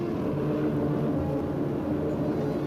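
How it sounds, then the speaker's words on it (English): Weather planes fly over the Bikini Atoll nuclear test area, heard as a steady, loud propeller drone with a low rumbling hum and no break. "Once again, weather planes make a last-minute check."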